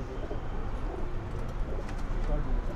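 Pigeons coo softly in a loft kept by a pigeon fancier, a steady low murmur of several birds with faint chirps and background noise throughout.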